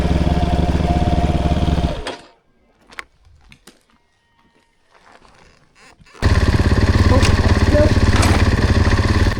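A tired trail motorcycle runs on a green lane in the South Peak District, loud close engine noise that cuts out for about four seconds of near quiet with small knocks, then roars back.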